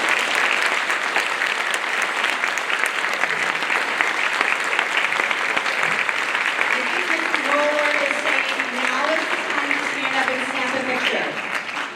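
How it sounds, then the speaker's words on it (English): Audience applause at a fourth grade level concert for the young musicians: dense, sustained clapping from a large crowd fills all twelve seconds at steady loudness, with a few indistinct voices rising over it toward the end. "I'd love for us to give them a huge round of applause."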